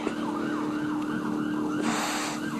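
An ambulance siren wails continuously, its rising and falling tone sweeping steadily back and forth, loud and close, with no talking over it.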